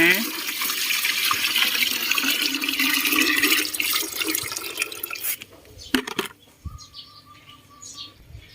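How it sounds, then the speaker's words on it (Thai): Vegetable plants in a garden are watered: a loud, steady gush of pouring water fills the first five seconds, then it stops and a few faint drips and light splashes follow. "เราไปรดพืชผักกันเลยค่ะ คุณผู้ชมจะใส่บัวรดน้ำก็ได้นะ"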